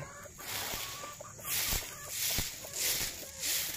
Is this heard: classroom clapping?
no